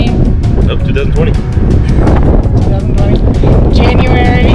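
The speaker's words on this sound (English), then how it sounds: "It's a windy day. Very windy." Strong wind buffets the microphone on a very windy day, a continuous loud roar with gusting rumble throughout, while a person talks over it.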